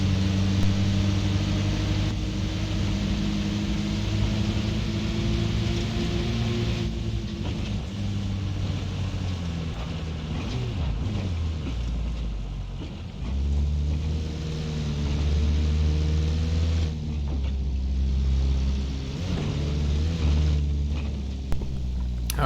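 A car driven in the video game Arma Reforger, its engine rumbling in a continuous low drone that shifts pitch as it accelerates and eases off, steady and loud with no speech.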